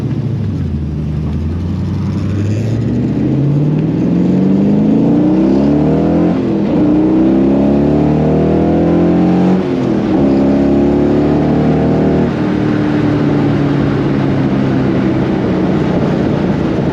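Corvette split-window resto mod engine on deceleration, a loud continuous rumble with crackling harmonics sweeping up and down as revs rise and fall, close and dominating throughout.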